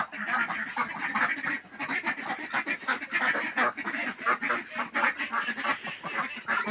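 A dense flock of ducks quacking continuously, many overlapping calls close by with a busy, chattering rhythm and no pauses.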